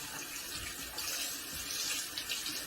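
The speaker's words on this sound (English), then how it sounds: "All you do now is just rinse your carrots off real good." Tap water runs steadily into a kitchen sink while carrots are rinsed under it for beef stew, a continuous close hiss and splash with slight surges and no voices.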